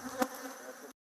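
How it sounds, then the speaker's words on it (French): Honeybees freed from relocated hives at a new plot, a dense steady buzzing swarm close by, with one brief louder pass near the start, then abrupt silence. "Une fois installées sur leur nouvelle parcelle, les abeilles sont enfin libérées."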